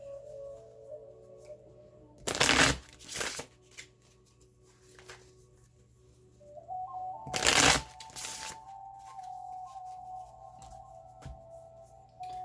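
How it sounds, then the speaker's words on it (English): Twin Flame Journey oracle cards being shuffled in two distinct bursts, each a second or so of brisk riffling and flapping, close and clear over a faint steady hum. "So now I'm going to choose a couple of cards from the Twin Flame Journey Oracles to wrap up your reading."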